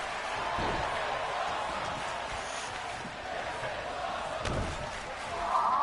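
A crowd roars and cheers steadily at an EXW independent wrestling cage match, with a couple of dull slams and thuds cutting through the continuous noise.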